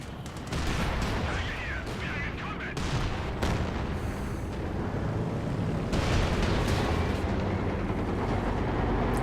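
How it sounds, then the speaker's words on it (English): Frag bomb barrage in Company of Heroes 2, a 2v2 match on a winter map: dense, continuous rumbling blasts and crackling explosions pile over one another for the whole stretch, with a voice talking underneath. "Frag bombs coming in."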